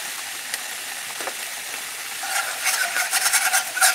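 Green beans sizzle in a frying pan, a steady crackling hiss that grows louder and more spattering toward the end, with no talking.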